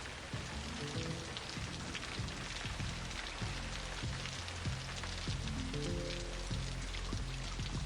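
Rain pours down at night on a building site, a dense constant patter of drops on hard surfaces with low rumbling underneath, steady throughout and close, no talk.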